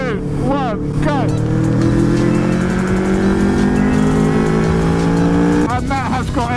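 A faired motorbike accelerates hard in a sustained, rising engine roar from near the rider, with brief talking at the start and end.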